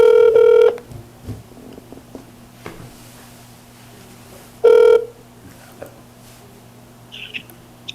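A phone number being dialed on a telephone: two loud bursts of keypad tones, one at the start and another about four seconds later, separated by quieter handling noise.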